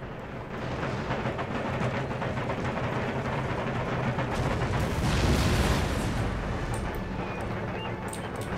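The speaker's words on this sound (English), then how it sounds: "They're returning fire onto my infantry." Massed musket volleys and battle din from the strategy video game Empire: Total War, a dense continuous roar of crackling gunfire with a swell in the middle, loud and unbroken.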